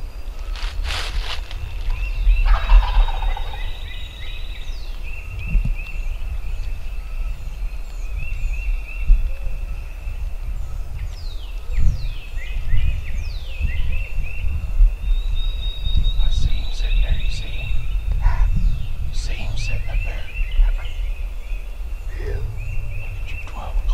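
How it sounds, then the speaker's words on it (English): Wild turkey gobbling again and again in woodland, several bursts spread through the stretch, fairly close, with rustling footsteps and low wind noise underneath. "This old turkey just gobbling and gobbling and gobbling."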